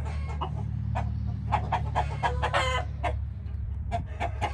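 An Aseel hen, a small Rajah Murgh bird, clucks repeatedly while being picked up and handled, a run of close, fairly loud, uneven clucks and squawks with no talking.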